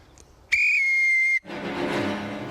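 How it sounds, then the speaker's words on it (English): A single long, shrill blast on a whistle starts a country-estate game shoot, sounding loud and steady for nearly a second, followed by muffled outdoor rustling and movement. "I'll blow the whistle and off we go."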